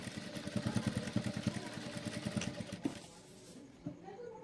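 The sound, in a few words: sewing machine stitching a blouse neck back and forth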